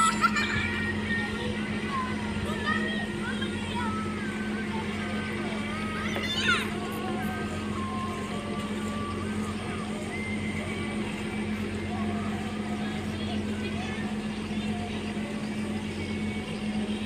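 The tugboat Leo Power 227 pushes a load of split stone upstream against the current of the Barito River, its engine a steady low drone with water wash. A voice speaks over it throughout.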